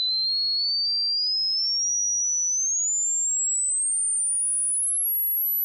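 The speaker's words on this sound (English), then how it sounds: "So here we're going to sweep from 4K all the way up to 20K." A tone generator plays a pure sine sweep climbing smoothly from 4 kHz to 20 kHz, a steady thin whistle rising in pitch over several seconds until it grows nearly inaudible, with no other sound.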